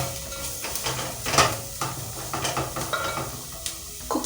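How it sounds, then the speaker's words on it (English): Matoke being stirred with spices in a cooking pot, a steady scraping stir over a soft sizzle with occasional clinks of the pot, close and moderately loud, no talking. "Then stir."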